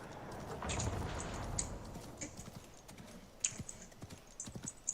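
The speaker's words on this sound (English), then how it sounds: "I can hear this guy on his keyboard" Rapid, uneven clicks of a player's mechanical keyboard come through voice chat during a PC match of the shooter Highguard, with light clattering bursts scattered over a steady low background and a few sharper taps near the end.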